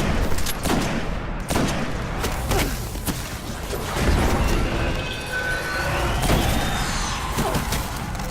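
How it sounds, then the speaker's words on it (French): Gunfire in the video game Destiny, with several sharp reports and heavy impacts over loud continuous action noise, including a sniper rifle. "on va jouer avec ça. C'est le fusil de précision."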